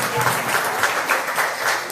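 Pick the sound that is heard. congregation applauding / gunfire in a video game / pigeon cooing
congregation applauding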